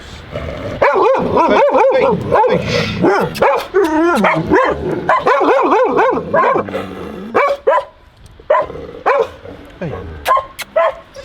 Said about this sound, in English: We're now looking after the dogs that are guarding our bikes.